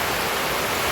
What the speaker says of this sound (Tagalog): Pero napakalakas po talaga ng ulan.